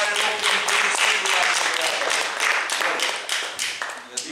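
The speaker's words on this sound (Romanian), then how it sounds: "Aplaudați-o că pare locul întâi, sigur." An audience at a literary circle meeting in Fălticeni applauds a first-place winner, with dense, steady clapping filling the room for several seconds before tapering slightly near the end.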